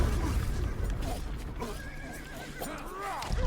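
A horse in a real-time strategy video game whinnies with rising and falling cries, joined by clip-clopping hooves and game music, with someone talking over the top.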